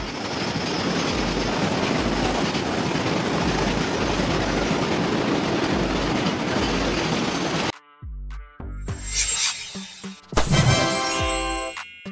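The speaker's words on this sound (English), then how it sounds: "tanker trains carry liquids like oil, chemicals, and fuel" A tanker train rolls along the rails with a loud, dense rumble and steady clickety-clack for several seconds, then cuts to quieter, scattered rail clanks and a squealing, jingling burst.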